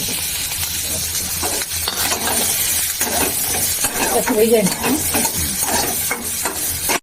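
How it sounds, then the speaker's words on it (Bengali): Onion and green chilli being fried in oil while cooking a Chinese-style dish, a sizzling hiss broken by scraping stirs and clattering utensil knocks, with a faint voice briefly underneath. "আগে পেঁয়াজটা দিই পেঁয়াজ কাঁচা লঙ্কা আগে দিয়ে দিচ্ছি"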